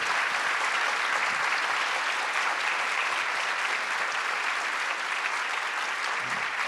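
A lecture audience breaks into sustained applause, dense steady clapping filling the hall at even loudness throughout with no talk over it.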